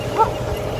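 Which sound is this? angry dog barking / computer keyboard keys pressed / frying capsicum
angry dog barking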